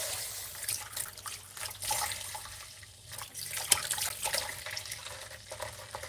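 Cold tap water runs into a sink while dirty dishes are washed, a continuous close splashing hiss with small clinks and surges.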